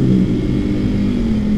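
Ronin motorcycle fitted with a three-mode racing exhaust set to racing mode, giving a steady, loud, deep exhaust drone close by with no talking.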